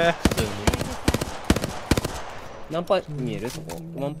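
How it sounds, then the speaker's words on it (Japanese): Gunfire in the video game Apex Legends: several sharp shots in quick bursts, crisp and fairly close, followed by players talking. "ちょっと後ろで銃声なってるから後ろ見に行こう。"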